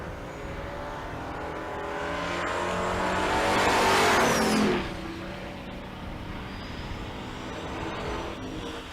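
Two pickup trucks, an '85 Chevrolet C10 and a '99 Chevrolet Silverado, launch side by side at a drag strip, engines roaring and swelling to a loud peak as they pass close, then fading down the track amid steady crowd and track noise.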